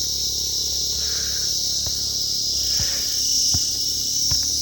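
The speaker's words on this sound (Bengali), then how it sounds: "তো এই খাড়াই রাস্তাটা দিয়ে ওঠার পথে কানে প্রচুর ঝিঝি পোকার শব্দ কানে আসছে।" Dense, steady chorus of crickets chirping in forest around a steep path near Dawaipani, Darjeeling, a loud continuous high trill with a few faint footsteps or knocks beneath, no talking.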